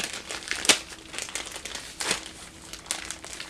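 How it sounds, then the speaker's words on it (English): Crinkling plastic packaging being handled and pulled open, with sharp crackles and rustles in irregular bursts, close up and fairly quiet. "I never send stuff in plastic because I have the hardest time opening it"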